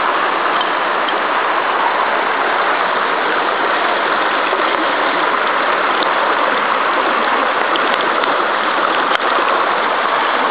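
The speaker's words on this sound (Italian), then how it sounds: "Simpatico sto fiume." A river streams steadily past trees near a bridge, a loud, unbroken rushing of water that holds constant throughout with no voices.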